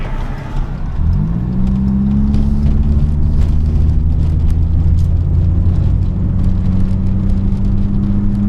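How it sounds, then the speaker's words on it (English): A Saab 900 engine with heavy blow-by pulls under gentle throttle while driving, settling into a loud, steady drone with a rising whir after the first second and a constant rumble from the car throughout. "I don't want to gun it with all this blow by, but we'll give it a little bit more gas here"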